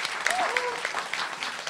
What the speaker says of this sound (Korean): 자, 박수 부탁드립니다.